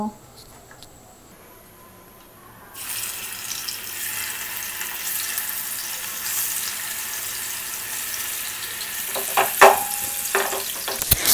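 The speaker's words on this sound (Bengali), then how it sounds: "কড়াইতে তেল নিয়ে নিয়েছি এখন এই তেলের মধ্যে আমি মাছগুলো ভেজে নিব" Rohu fish pieces hit hot oil in a kadai; after a quieter start a loud, dense sizzle bursts in and keeps crackling steadily close by, with brief clattering near the end.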